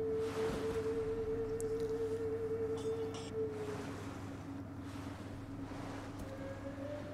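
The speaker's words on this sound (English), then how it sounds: "A lot of sailing going on over here." Ships sail on open sea in the strategy game Rome Total War 2, with a continuous wash of ocean waves and wind, a low steady hum beneath, and a few faint tones drifting in and out.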